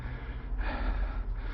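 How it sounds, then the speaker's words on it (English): Heavy, labored breathing from a hiker climbing Mt. Douglas, with loud breaths and a gasp close to the mic over steady wind-like rumble. "you don't want to hear me heavy breathing"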